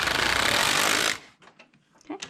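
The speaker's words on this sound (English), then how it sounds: "I'm going to move the lock with my right hand." The lock of a Passap E6000 knitting machine slides across the needle bed in one loud, rattling mechanical sweep lasting about a second, followed by quieter clicks and small knocks.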